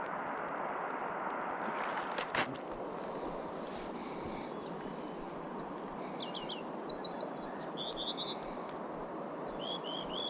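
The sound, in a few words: American Dipper bird calling by a river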